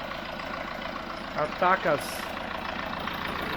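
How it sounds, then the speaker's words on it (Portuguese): A tractor engine runs steadily at idle, a continuous low drone throughout while someone speaks briefly near the middle. "A gente para do lado do motor, parece que tem barulho, daí bem louco, né?"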